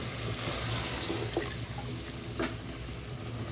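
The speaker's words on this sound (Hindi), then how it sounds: "हम आधा कप के करीब पानी डालेंगे।" Water pours steadily into a cooking pan of cauliflower and meat gobi gosht, a soft, continuous hissing splash with faint clinks, low in level and without speech.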